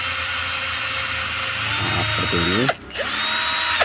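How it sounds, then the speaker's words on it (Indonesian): A power drill bores holes while assembling a homemade fish-shocking switch unit, a steady loud motor whine that rises in pitch near the end, stops briefly, then resumes; a single short word is spoken over it. "baru dibor menggunakan mata bor"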